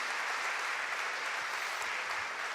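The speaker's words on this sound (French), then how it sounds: "Je vous demande donc d'applaudir et d'accueillir Pierre Montel qui est à mes côtés." Dense, steady clapping from a large crowd at a 2017 New Year's greetings event in Lorient fills the space evenly, a continuous wash of applause without pauses.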